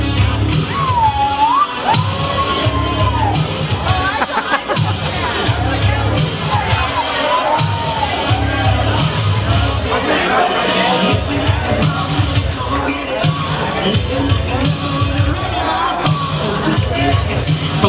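Wedding reception guests cheer, shout and whoop for the bride and groom at the cake cutting, a loud continuous crowd din over music with yells and bangs throughout.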